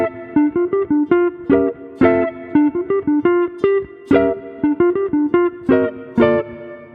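Short, clipped jazz guitar chord stabs in a syncopated rhythm, played in quick repeating figures with brief gaps between hits, close and loud with no voices.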